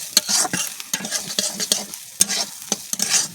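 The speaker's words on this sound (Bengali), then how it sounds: "তো ডালগুলো দেখো ভাজা হয়ে এসছে" Lentils fry in a pot over a clay wood-fired stove as a spoon scrapes and stirs in sharp, irregular strokes over a soft sizzle, close by and without speech.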